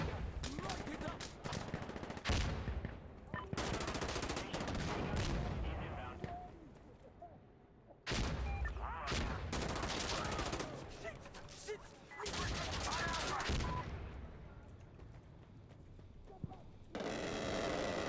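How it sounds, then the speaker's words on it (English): Air strike strafing an area in the video game Arc Raiders, heavy bursts of rapid gunfire and explosive blasts crashing in loud dense volleys with brief gaps between them, speech mixed in underneath. "We need air to strafe this area. Light it up."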